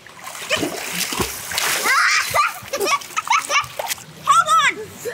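Water splashing and sloshing in a swimming pool, busy and close, with children's voices talking and shouting over the splashes.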